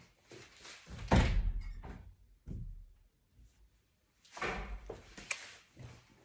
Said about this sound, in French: Je vais ouvrir la porte à mon chat.